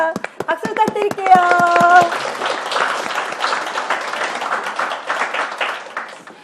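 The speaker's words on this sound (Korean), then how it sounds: "박수 부탁드릴게요." Applause from a church congregation at a Korean church gathering, opening with sharp clapping over music and a voice, then settling into a dense, steady round of hands that tapers off toward the end.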